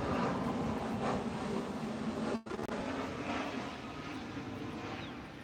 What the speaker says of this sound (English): we'll let this airplane go by real quick.